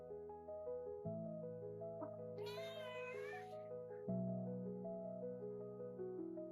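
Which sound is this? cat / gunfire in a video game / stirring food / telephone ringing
cat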